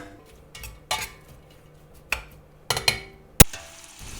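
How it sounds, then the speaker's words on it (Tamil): Onions sautéing in oil in a pan for mutton dum biryani, heard as a low faint sizzle broken by several sharp scrapes and clinks of a spoon stirring against the pan. "இப்போ வெங்காயம் வதங்கிட்டுருக்கு."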